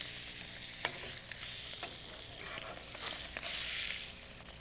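Very thin fish fries in a sauté pan and is turned over. Soft, scattered clicks and scrapes sit over a low, quiet sizzle that swells briefly near the end.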